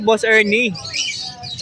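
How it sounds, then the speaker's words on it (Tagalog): Parakeets at a bird breeder's aviary give high, brief chirps in the background while someone speaks briefly in the foreground. "Dami pa no, daming parakit ito."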